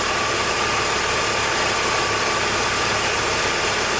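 BMW E46 M3 idles with a failing alternator diode pack, giving a steady high whine over a constant low engine rumble. The sound is loud, close and unchanging, with no voices.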